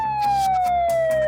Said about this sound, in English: Oh, must be a police siren.